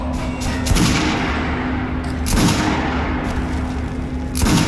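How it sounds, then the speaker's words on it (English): Gunfire at a shooting range in the video game Metro Last Light Redux, with three loud, spaced single shots booming over a constant low hum of background ambience. "Try shooting for the center of the regular dummy's chest."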